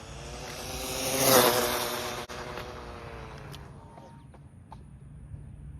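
A Jiusi PT14 Class B RC boat runs at full throttle. Its high-pitched motor whine swells loudly as it passes close, then thins out and fades into the distance.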